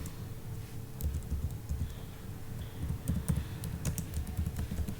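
Rapid tapping on a computer keyboard, a steady stream of close, light key clicks over a low background hum.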